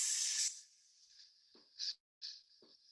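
A voice imitates a spray paint can, giving a loud breathy hiss that fades into softer, broken hisses with short pauses, close and alone with no other sound.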